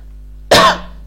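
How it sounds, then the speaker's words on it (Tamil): A single sharp cough from an adult man, close and loud, rising suddenly out of a quiet low hum and fading within half a second. "கிளைமேட் சேஞ்சில் கொஞ்சம் இருமல் இருக்குது"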